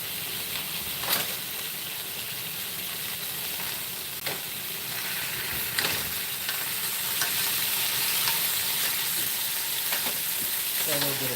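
Tri-tip steaks, cut from a roast, sizzling loudly in an oiled pan just after being flipped, a constant close frying hiss with occasional sharper pops and spatters and no talking.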